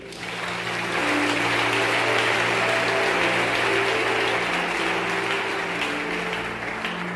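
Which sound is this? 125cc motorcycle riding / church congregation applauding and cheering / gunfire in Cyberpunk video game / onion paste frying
church congregation applauding and cheering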